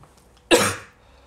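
A single short cough, close and fairly loud, rises out of near-silence and fades quickly.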